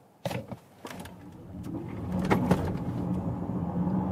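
A 2024 Zeekr 001 electric car accelerating from 0 to 70 km/h, heard from inside as a few clicks and thumps followed by a steadily rising, smooth low road-and-motor hum with a faint electric whine.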